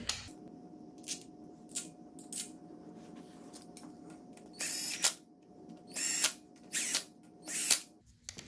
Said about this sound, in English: Take our 4 bolts that we removed, and they can go right back in.